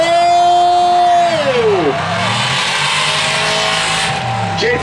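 A Ford Falcon and a Ford Mustang drift car in competition at Drift Atlanta 2011, engines screaming at high revs then dropping as tires squeal and skid in a long, loud continuous roar.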